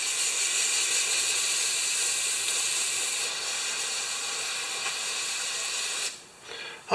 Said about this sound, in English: Spray the crap off that